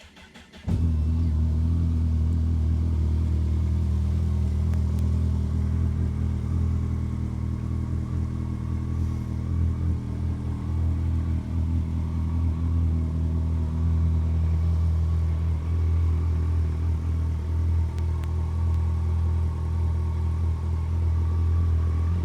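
A Kawasaki GTR 1400 motorcycle engine idles steadily and close by after a brief start, its low, even throb holding for the whole stretch with no talk over it.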